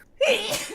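A single sneeze bursts out close and loud after a brief quiet moment, short and sharp, with no talk around it.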